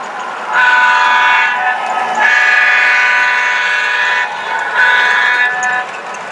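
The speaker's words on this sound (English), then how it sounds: "why don't we get this" A Santa Fe model train pulling passenger cars on a layout sounds its horn in three long, loud blasts separated by short gaps, close and clear, with no talking.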